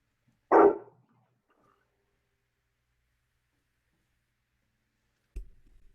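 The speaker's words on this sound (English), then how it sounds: "I think I just heard somebody's dog bark." A single dog bark rings out from somewhere nearby, sharp and loud against silence, followed several seconds later by a faint low thump or second muffled yelp.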